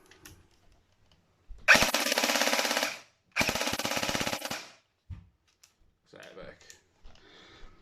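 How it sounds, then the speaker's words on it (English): A G&G TR16 airsoft rifle, an M16-style DMR, firing full auto in two close, loud, rapid bursts of about a second and a half each, with quieter clicks and handling noise afterward. "It's full auto it."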